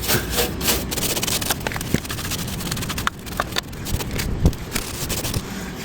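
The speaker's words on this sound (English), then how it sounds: "Gonna rub that into the floor and see what it does." Old 50-year-old engine sludge from a C20 engine is rubbed into a garage floor, producing continuous close scraping and rubbing strokes with a few sharper knocks.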